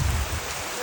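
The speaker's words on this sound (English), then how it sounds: "It's raining. It's pouring" Heavy rain pours steadily in the Puerto Rican countryside, a dense, even hiss that is loud and close, briefly heard without any voices.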